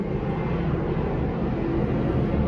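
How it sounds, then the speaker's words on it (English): An airplane passes overhead with a loud, steady, broad roar that fills the whole moment, with no clear rise or fall and no voices over it. "I'm sorry about the plane."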